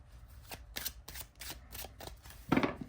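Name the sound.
shuffling glossy gilded Tree Keepers oracle cards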